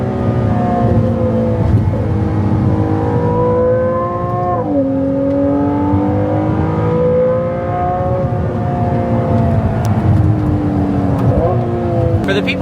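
A Ferrari 296 engine roars and revs continuously up close, its pitch climbing through gears with a shift dip midway, loud and sustained throughout.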